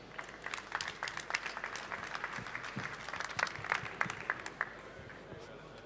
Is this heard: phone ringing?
no